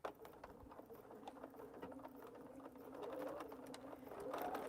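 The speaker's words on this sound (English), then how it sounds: "I'm just stitching right on top" Sewing machine stitching black thread on black fabric for a tote bag, a faint continuous hum that swells slightly toward the end, with quiet room noise around it.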